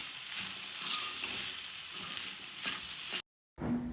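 Okra fries with onion and tomato in a pan, a steady, moderately quiet sizzle with occasional stirring scrapes, broken by a brief moment of silence near the end.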